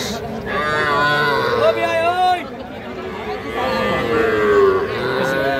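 A bull calf moos loudly in long drawn-out calls while people chatter nearby at a cattle market.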